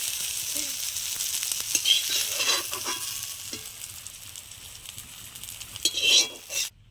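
Water lily fritters fry in hot oil with a soft, continuous sizzle, broken by a few stirring and turning scrapes in the pan, including a louder clatter near the end.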